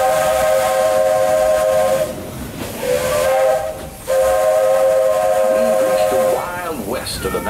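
A loud steam train whistle blows in long sustained blasts, broken by short pauses, with hissing steam underneath.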